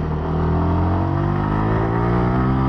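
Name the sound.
Yamaha R125 motorcycle engine revving while riding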